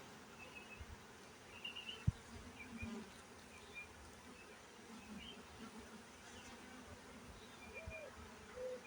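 Honeybees buzz around an opened hive during a post-swarm inspection, a low continuous hum with individual bees flying close by now and then, steady and fairly faint, without speech.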